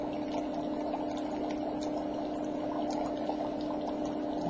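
Dry ice bubbling and fizzing in a container of water, a steady close churning of gas bubbles with a constant low hum running underneath.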